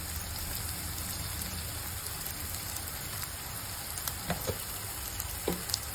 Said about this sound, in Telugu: టమాటోలో అంతా వాటరే కాబట్టి చాలా తొందరగానే ఫ్రై అయిపోతుంది